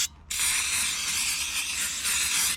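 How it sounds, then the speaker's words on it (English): Brake cleaner is sprayed onto new rear brake discs on a Peugeot 407, a loud, close, steady aerosol hiss lasting about two seconds after a brief quiet start. "My brake cleaner is running out. I don't have much left, but should be enough to do these two discs."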